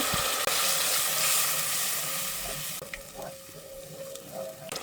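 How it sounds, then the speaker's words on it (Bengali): Spice paste (masala) sizzles steadily as it fries in a pan while cooking duck curry, with a spoon scraping and stirring through it; the frying hiss stays continuous and close throughout. "মশলাটা সুন্দর করে ভাইজে নিচে দেখেন খুব সুন্দর হয়েছে ভাজা"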